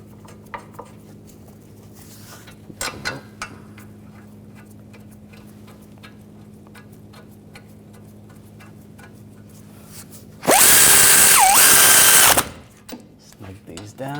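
On a 2011–2018 Volkswagen Jetta, a power tool briefly runs at high speed for about two seconds, loud and close, with its pitch dipping as it drives in the caliper bracket bolts. Light metallic clinks of tools come before it.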